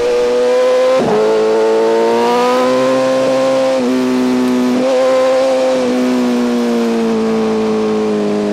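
A BMW S1000 RR sport motorcycle engine revs hard and steadily, pitch climbing then dropping at each gear change, loud and close with no talking.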